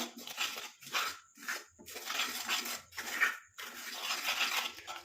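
Hibiscus leaf paste stirred into hair dye in a bowl gives repeated scraping, clinking strokes of a spoon against the bowl, fairly close and steady in short bursts, with no talk over it.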